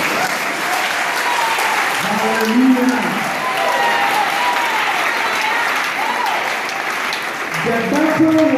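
A church congregation breaks into sustained applause that stays loud and even throughout, with a voice speaking over it at intervals.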